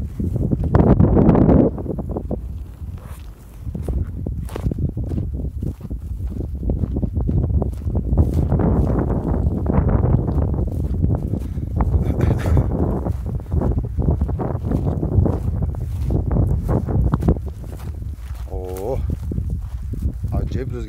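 Gusty wind buffets the microphone in rough, uneven bursts, with footstep-like thuds and rustling mixed in.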